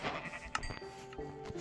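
Sheep bleating in Minecraft, a short run of game bleats close and clear over faint background, with no talk.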